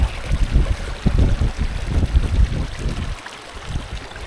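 Mountain stream water rushing steadily on a hillside, a continuous loud broadband flow with gusty wind noise over the microphone and no speech.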